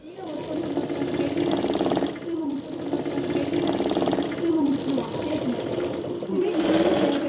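Sewing machines run at a tailoring training centre for disabled trainees in Madurai, making a steady, rapid stitching whir in long bursts with short pauses, while a voice speaks over it.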